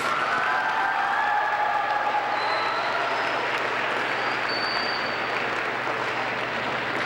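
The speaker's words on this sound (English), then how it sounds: "Let's go ahead and give her an applause." A school audience applauds the reigning Miss Louisiana, a steady, even wash of clapping from a large crowd heard with little talk.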